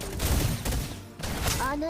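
Gunfire from a sharpshooter's weapon in the video game Snowbreak Containment Zone, a short burst of shots over a busy game soundtrack, with a voice speaking faintly underneath.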